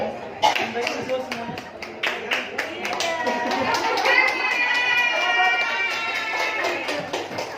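A classroom of students claps and stamps their feet, with a burst of uneven thuds and claps at first that gives way to excited voices and chatter.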